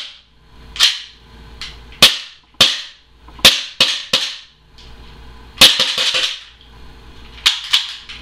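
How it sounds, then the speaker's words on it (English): A KJWorks SIG P226 gas blowback airsoft pistol fires on green gas, giving about a dozen sharp, loud cracks with mechanical clacks, spaced irregularly and close by, with quiet between shots. "that was just a quick spurt of green gas"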